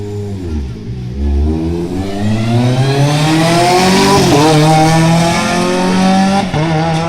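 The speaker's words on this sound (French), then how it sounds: "L'Honda Civic K20 de Frédéric Grand vient de s'élancer et son numéro 167" A Honda Civic K20 race car launches up a hill climb course, its engine revving hard and climbing through the gears with a loud, steady rising wail and brief shift dips, heard close.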